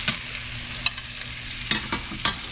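Freshly caught fish fries in hot oil at an outdoor cookout, giving a continuous crackling sizzle with a few sharp clicks from stirring, and no talking.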